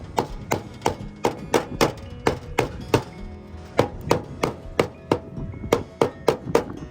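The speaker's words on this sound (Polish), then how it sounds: "Najpierw dobijamy blachę młotkiem gumowym" A rubber mallet hammers sheet metal flashing around a chimney, landing about twenty sharp, dull strikes in a quick, fairly even rhythm with a short pause midway, close and loud.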